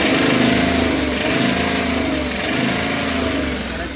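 A Tata Ace engine revs steadily after a dynamo repair, giving a continuous loud mechanical drone with a slight rise and fall in pitch that holds through the whole stretch.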